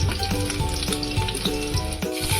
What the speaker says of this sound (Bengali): একটু লাল লাল করে ভেজে নেব।